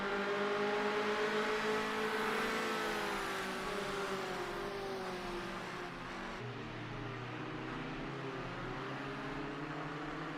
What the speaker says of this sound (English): you hear those high revs. They're reaching their rev limit on their car.